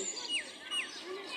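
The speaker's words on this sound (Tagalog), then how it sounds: "Ayan ang ibon." A bird calling among date palm trees in Dubai, two quick faint chirping sweeps heard at a distance over soft outdoor background noise.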